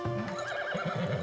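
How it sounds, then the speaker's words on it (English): A horse gives a loud, wavering neigh in the medieval town-building game Farthest Frontier, one continuous whinny heard alone without talk. "As long as we have horses, I'm happy."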